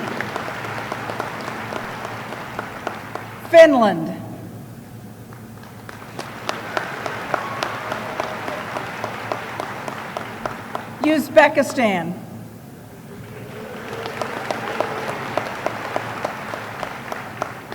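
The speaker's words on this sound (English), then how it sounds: "Let's applaud for her." Audience applause rings out at a university winter commencement for international graduates, rising in two bursts as a man announces countries over a public address, with steady clapping continuing between his calls.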